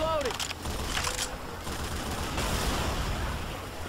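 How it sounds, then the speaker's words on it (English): Machine gun firing in Left 4 Dead 2, a sustained fairly faint rattle of rapid gunfire under continuous game noise, with a voice speaking briefly at the start. "I enjoy that Lewis's machine gun has infinite ammo"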